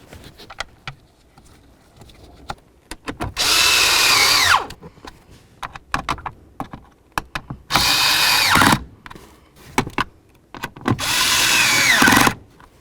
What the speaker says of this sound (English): Start in all three of your mounting bolts and then snug them up.